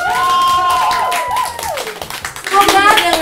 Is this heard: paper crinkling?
no